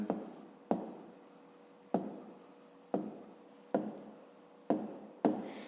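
A pen writes numbers by hand on paper, about seven short scratchy strokes at a steady pace, each starting sharply and trailing off, close and quiet.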